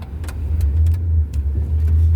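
Traffic on Route 1 highway in Kittery, Maine: a car engine hums low and close while vehicles pass, with brief higher swishes and clicks scattered over the steady rumble, no voices.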